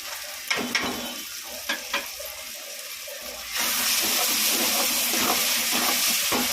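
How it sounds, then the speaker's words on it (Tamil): Ginger garlic paste hits a hot pan of oil for a large community-feast curry, starting with a few light clinks and stirring taps, then a sudden loud, steady sizzle and hiss that carries to the end. "இந்த இப்போ இஞ்சி பூண்டு போடுறோம்ப்பா"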